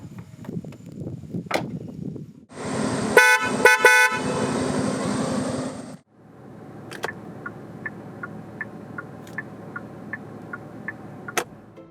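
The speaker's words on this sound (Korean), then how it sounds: "잠시 모하비가 어떤 체감적인 소리를 들려주는지 들어볼까요?" A 2018 Kia Mohave 3.0 diesel 4WD gives a low, steady engine rumble, broken midway by a few seconds of loud horn honking. Then a continuous driving drone follows, with faint, regularly spaced light ticks.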